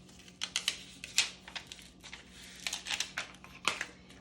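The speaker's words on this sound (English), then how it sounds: "So I'm gonna start by removing the paper backing." Paper backing peels off a vinyl label for a Starbucks cup, giving a series of short crackling, crinkly tears and taps in bursts, close and fairly quiet, with no talking.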